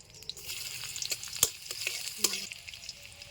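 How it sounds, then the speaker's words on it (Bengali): Dried red chillies and chopped garlic sizzle in hot oil in a home kitchen, a steady crackling hiss with a few sharp pops and brief stirring clatter, close and moderately loud. "তেল গরম হয়ে গেছে, পুরনে দিয়ে দিচ্ছি শুকনা লঙ্কা, দিয়ে দিচ্ছি রসুন কুচি"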